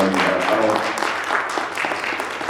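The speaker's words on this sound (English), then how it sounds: "Can we actually give E.T.M. Media one more round of applause, please?" Applause from an audience in a church fills the clip, a dense steady wash of clapping that stays loud throughout with no pauses.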